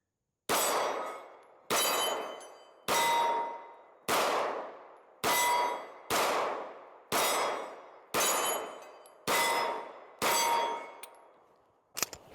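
A pistol magazine dropped onto hard ground, heard as about nine separate sharp metallic clangs spaced roughly a second apart, each ringing briefly and fading, followed by a small final clatter.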